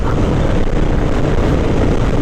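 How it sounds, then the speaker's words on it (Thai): Loud, steady wind roar buffets the microphone on a motorcycle riding at about 70 km/h, a continuous low rumbling rush with no pauses and no talking. "ฟังเสียงลมนะครับความเร็วอยู่ที่ 70 ตอนนี้"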